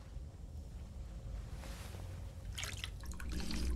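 Water being drunk in Fallout 4: a soft liquid sloshing and dripping under low ambient rumble, ending in a brighter burst of splashy gulping sounds.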